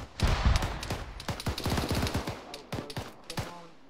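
Rapid bursts of gunfire and single shots ring out during a tactical shooting game, with some reports sharp and close and others more distant. The shots come in irregular volleys over low background noise.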